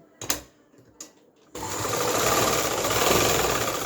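A sewing machine stitching lining fabric onto a kurti: a couple of short mechanical clunks first, then the motor runs in a steady, loud continuous whir of rapid stitching close by.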